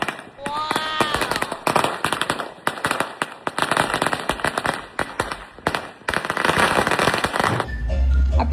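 New Year fireworks and firecrackers burst in rapid, crackling volleys, sharp and loud, with whistling rockets early on and people shouting and talking throughout.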